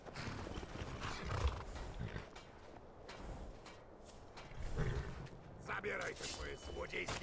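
A horse whinnies and its hooves clip-clop in the video game Skyrim, moderately loud bursts of hoofbeats and snorting amid game noise, with someone talking over much of it.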